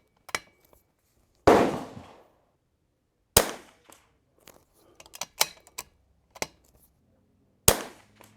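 Rimfire rifle shots from an Anschutz 1727F or Vudoo firing Eley Ultra ammunition crack out at outdoor range, several sharp reports spaced seconds apart with quieter clicks and handling noises between them.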